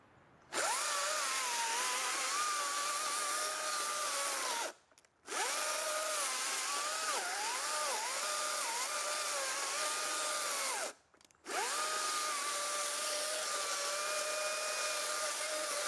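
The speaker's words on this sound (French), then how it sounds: "Forcément, je peux pas aller au centre avec ma tronçonneuse." Small chainsaw cutting firewood outdoors, the engine holding a steady loud whine through long cuts, with two brief drops in between, each followed by a fresh rise back to full cutting tone.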